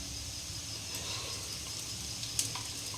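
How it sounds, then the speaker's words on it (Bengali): Ghee sizzling steadily in a hot pan while semolina pulao is cooked, a soft even hiss with faint crackles throughout and no talking. "এখানে একটু ঘি দিব"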